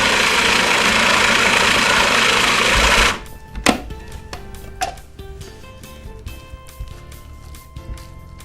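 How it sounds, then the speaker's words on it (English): A blender whirs loudly and steadily for about three seconds as it blends scallop sauce into an emulsion, then stops, leaving quieter clicks and clatter close by. "You can see as it's blending, and as the blades are going through it, it's turning itself into its own emulsion."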